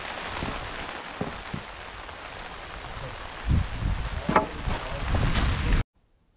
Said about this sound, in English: Once the rain stopped